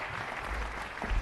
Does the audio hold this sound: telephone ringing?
no